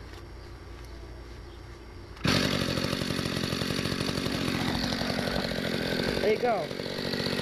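A 1994 Mantis cultivator's small engine fires up after a quiet start and runs loud and close with a steady buzzing rattle, then briefly bogs near the end; someone speaks briefly.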